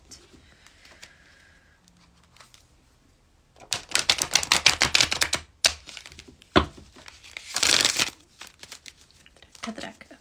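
A deck of tarot cards being shuffled, with soft speech at first, then bursts of rapid riffling and flapping card sounds, a few sharp taps, and another brief riffle before it quiets down.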